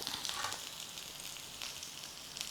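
A steady, close sizzle of shredded onions with curry leaves, ginger and garlic stir frying in hot oil, crackling continuously with light stirring scrapes and no voices.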